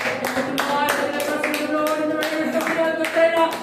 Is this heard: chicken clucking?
no